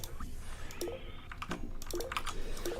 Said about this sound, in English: You probably hear me like triple clicking